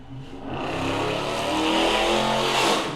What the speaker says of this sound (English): Or make your car really loud like that